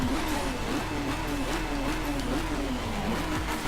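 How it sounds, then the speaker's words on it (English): Volkswagen GTI Design Vision with a 3-liter VR6 engine in the Driveclub racing game, driving in the wet: a steady, fairly quiet engine drone with faint gear-shift dips, heard alone with no voices. "There's the engine there, 3-liter VR6,"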